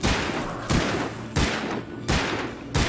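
Gunshots ring out in the Alan Wake video game, four loud evenly spaced blasts roughly every 0.7 seconds, each with a booming echoing tail, and no talking over them.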